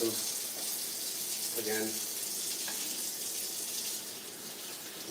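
A kitchen tap runs in a steady broadband rush while cherry tomatoes are rinsed under it, loud and continuous throughout, with a voice speaking briefly over the water.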